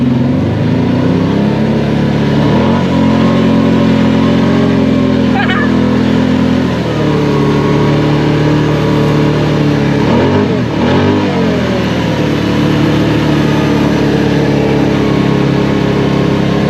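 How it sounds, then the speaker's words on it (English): A car engine strains and revs loudly and continuously while climbing a snowy hill in two-wheel drive, with rising and falling pitch throughout. "Think we can make up the hill in two-wheel drive?"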